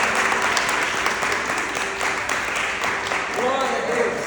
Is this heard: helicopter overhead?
no